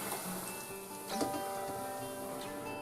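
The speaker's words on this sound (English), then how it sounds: "We're going to fry the plantain first until they become lightly brown." Plantain slices frying in a cup of oil in a pan over medium heat, a steady close crackling sizzle with scattered pops throughout.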